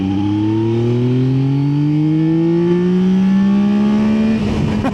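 Yamaha Tracer 9 GT motorcycle pulling away in third gear from about 30 mph, its engine note climbing steadily as it accelerates, loud and close, with a rush of wind and road noise near the end.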